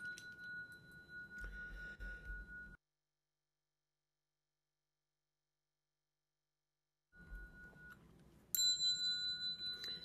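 A bell rings out in clear, sustained metallic tones, falls silent for several seconds, then returns with brighter, higher chimes layered together.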